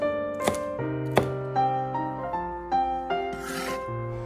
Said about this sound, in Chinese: 将小米辣切成圈